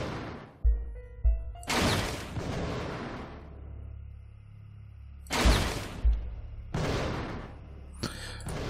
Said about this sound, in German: Exzellenter Schuss